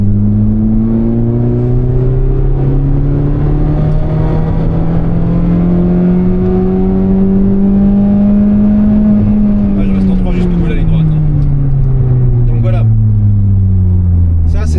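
Engine of a 2019 Mazda MX-5 Miata ND held in third gear, a loud, close, steady drone heard from inside the car that rises slowly in pitch, then falls away as the car eases off.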